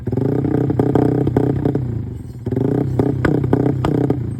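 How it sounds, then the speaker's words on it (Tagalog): Motorcycle engine idling steadily after its throttle and idle were tuned and its spark plug dealt with, a loud, continuous close-up rumble with slight unevenness and no talk. "Kaya eto at tinuno na pati yung idle niya."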